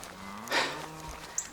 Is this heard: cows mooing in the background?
yes